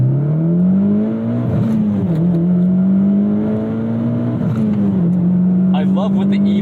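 Mitsubishi Lancer Evo X GSR, a modified turbocharged car, accelerating hard uphill, its engine droning loud and close with the pitch climbing through gears and dipping at each shift, a voice speaking over it.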